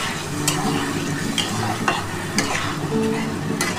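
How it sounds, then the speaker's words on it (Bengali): Egg curry masala sizzles in a pan while water goes in, with a continuous frying hiss broken by several sharp spoon scrapes and clinks, loud and close, without speech. "এবার আমি কিন্তু জল দিয়ে দিচ্ছি"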